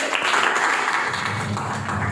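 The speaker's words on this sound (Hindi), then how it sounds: "इसके लिए ताली बजा दीजिए।" Classroom students clap together at a teacher's request, a steady broadband patter sustained throughout, fairly close and loud.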